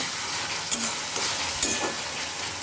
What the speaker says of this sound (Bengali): আদা রসুন পুরো ভাজা হয়ে গেছে, উপর থেকে তেল ছেড়ে দিয়েছে